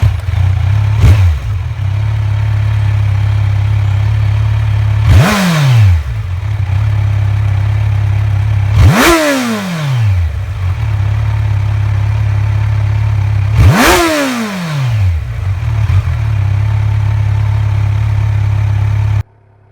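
A Kawasaki Z900 motorcycle engine revs hard four times from a steady idle, each blip rising sharply in pitch and then falling back, loud and close with no talking.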